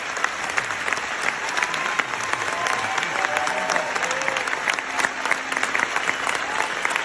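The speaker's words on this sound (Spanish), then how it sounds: "esta película recibió una ovación en el Festival de Venecia" Sustained standing ovation from a large film festival audience, dense continuous clapping that stays loud and even throughout.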